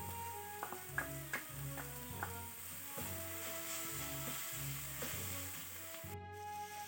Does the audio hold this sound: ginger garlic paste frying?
yes